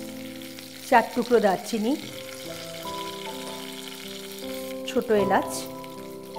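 Whole spices, bay leaves, cinnamon pieces and small cardamom, sizzle steadily in hot oil for chana dal with egg, a constant frying crackle under a voice speaking.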